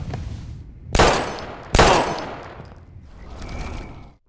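Gunfire in Life Is Strange, two sudden loud shots a little under a second apart, each followed by a ringing decay, with a softer rumble trailing toward the end.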